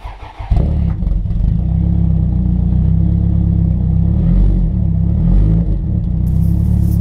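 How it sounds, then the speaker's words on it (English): A Toyota Celica GT-Four engine cranks briefly and catches, then settles into a loud, steady, close idle with a low rumbling drone and slight fluctuations, no voices. "we're going to start the Celica up"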